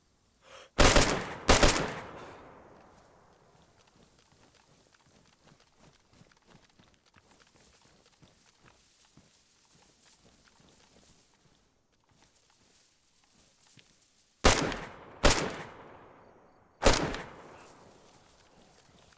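Gunfire rings out during an ambush in the video game DayZ: two loud shots close together, a long quiet stretch with soft footsteps, then three more sharp shots in quick succession.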